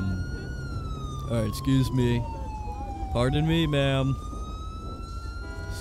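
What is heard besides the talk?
police car siren in GTA 5 video game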